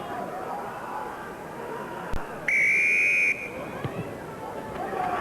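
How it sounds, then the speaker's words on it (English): A referee's whistle blast, long and shrill, starts a rugby match at a 1993 Worthington tens tournament, sounding clearly over crowd hubbub and background chatter. "just hold for the whistle"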